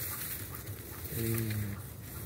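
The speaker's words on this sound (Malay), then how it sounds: "Dengar dia burung-burung dia bunyi." A single low, hooting bird call rises midway through, over a steady background hiss, with no talking, in a village in Penang.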